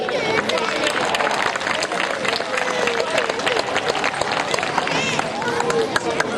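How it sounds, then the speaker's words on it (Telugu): An audience at a Telangana cultural festival claps to welcome a dance group, a dense, sustained patter of applause with crowd murmur and voices mixed in, steady and fairly loud throughout. "పెద్ద మంచిగా చప్పట్లతో వాళ్ళని అందరూ వెల్కమ్ చేయండి"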